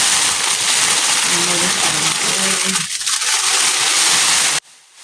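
A loud, steady blowing hiss like a heat gun shrink-wrapping plastic runs for several seconds, then cuts off abruptly, leaving quiet.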